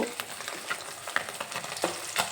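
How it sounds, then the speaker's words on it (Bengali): Parshe fish, just flipped, frying in hot oil in a pan: a continuous close crackling sizzle with a few sharper spits, no voices. "মাছগুলোকে আমি উল্টে দিলাম। এখন মাছের এই সাইডটা ভাজা হওয়া পর্যন্ত অপেক্ষা করব।"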